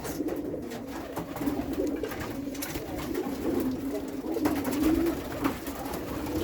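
Domestic pigeons in a loft with nesting birds and chicks coo steadily in low, throaty rolls, several birds overlapping close by against a soft background hiss, with no talking.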